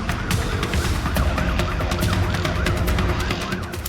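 Police sirens wail during a high-speed motorcycle chase, their wavering tones partly buried under loud, constant road and wind roar.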